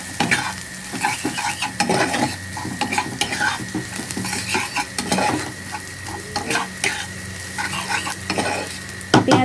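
Onions browning in a wok with whole garam masala and a dried red chilli, loud steady sizzling under frequent metallic scrapes and knocks of a spatula against the pan, close and busy throughout.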